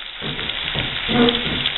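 Steady crackling sizzle of pork chops browning in a pan, continuous and fairly loud, with soft pops throughout.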